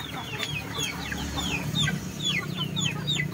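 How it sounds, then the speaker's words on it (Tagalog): Native Joloano chickens cluck steadily while pecking at papaya, with repeated short calls rising above a constant low farmyard hum at close range and no talking. "Walang pili itong mga manok dito guys. Basta makain."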